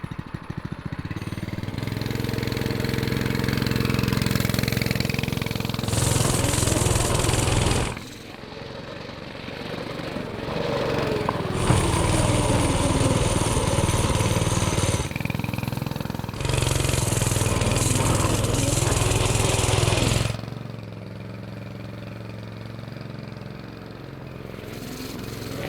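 A cheap drift trike's small engine running close by, its rough buzzing drone swelling and dropping as the throttle is opened and eased in several long surges, with occasional voices faintly under the noise.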